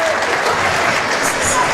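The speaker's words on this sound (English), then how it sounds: "let's have one last round of applause for the state champion" Audience applause at a boys' high school basketball game honoring the state champion, dense and loud clapping filling the whole short clip.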